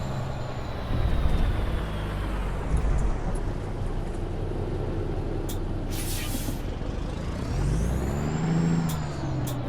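Big rig truck in American Truck Simulator pulls away, a deep diesel rumble swelling in surges as it moves off, with a sharp hiss of air brakes releasing midway and a faint whine near the end.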